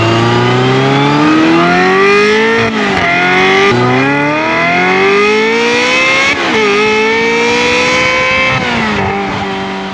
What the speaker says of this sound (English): Really gives it a high frequency and really just contributes to the beautiful sound of this engine.